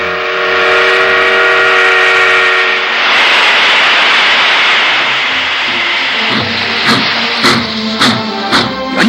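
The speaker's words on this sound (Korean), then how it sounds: "정전 후 단 12시간 만에 첫 기적 소리가 메아리 쳤습니다" A steam train's long whistle sounds loud and sustained, then breaks into rhythmic chuffing and puffs as the locomotive sets off, with no talk.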